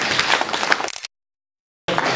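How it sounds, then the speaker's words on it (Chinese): Applause from a group gathered at a company event, a dense burst of many hands clapping that cuts off abruptly into silence, then resumes just as loudly near the end. "所以我们感谢他鼓掌"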